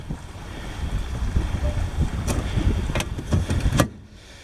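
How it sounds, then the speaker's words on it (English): Wind gusting around a boat riding at anchor off an island, a steady low rush with a few sharper bursts, then dropping away near the end. "the wind is blowing us away from the island already"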